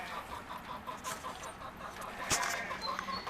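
Lavender Ameraucana chickens clucking softly over a steady, noisy background, with a brief louder cluck near the end.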